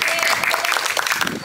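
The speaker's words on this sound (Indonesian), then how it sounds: "Tepuk tangannya untuk Bang Musnadi." An audience at a community talk show applauds speaker Bang Musnadi, a thick, continuous wash of clapping with voices mixed in.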